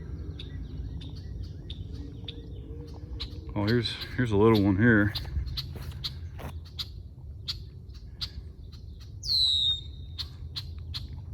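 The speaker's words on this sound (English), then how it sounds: "I hear those red-winged blackbirds." Red-winged blackbirds chirp and call sporadically at a distance, with someone speaking briefly and a louder sharp call near the end.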